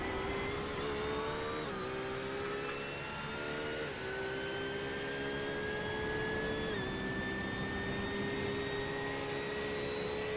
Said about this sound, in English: Really high revs in third gear.